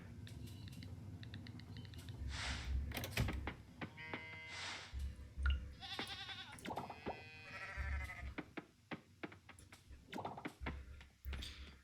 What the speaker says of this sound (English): Cows being very noisy.